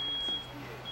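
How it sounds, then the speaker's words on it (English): A smoke detector sounds a steady, thin high-pitched electronic tone during a live burn demonstration, continuous across the moment, with a brief murmur of voices underneath. "We have smoke detector activation"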